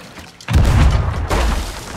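A ship's cannon fires in the pirate game Sea of Thieves, a loud close boom with a long rumbling tail, followed by a second heavy blast about a second later.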